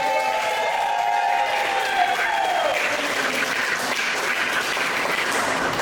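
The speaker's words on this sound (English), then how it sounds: "Give a round of applause for Monday Scaries." A live crowd at Monday Scaries breaks into sustained applause with some light cheering, a dense wash of clapping filling the room at a steady loudness, with a voice briefly overlapping early on.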